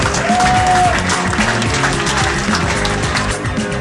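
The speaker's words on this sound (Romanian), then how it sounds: "Aplauze!" A crowd at a Romanian ski event party breaks into loud, continuous applause over pulsing background music.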